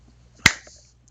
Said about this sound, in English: In case you're wondering what that clapping noise is.